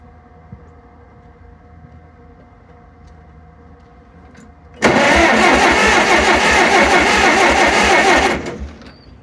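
A 72C10 tractor engine with carb trouble, being fired on three cylinders, sits quiet before a sudden loud start at about five seconds, then runs rough and loud for several seconds before cutting off.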